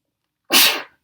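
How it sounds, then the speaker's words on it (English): One sharp, close sneeze bursts out of silence and fades quickly. "I'm about to sneeze"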